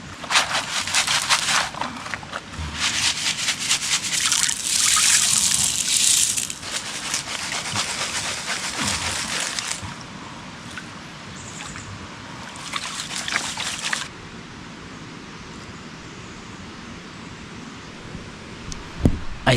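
Stream water sloshes and splashes in a gold pan, bursts of loud swishing and trickling near the microphone alternating with quieter flowing water, no talking.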